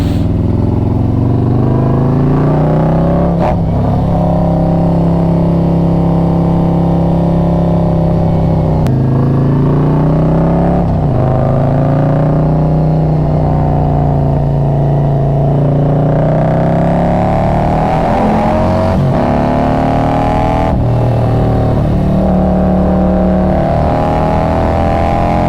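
Harley-Davidson Street Glide or Road Glide motorcycle engine idling and revving in cold air, a loud, close, deep throbbing rumble that rises and falls through several revs over about 25 seconds, with no talk.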